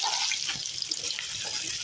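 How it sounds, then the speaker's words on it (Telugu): Paneer pieces frying in hot oil, a steady broadband hiss and crackle that stays even and close throughout without pause. "ముందుగా పన్నీర్ ముక్కల్ని దోరగా వేయించుకోవాలండి"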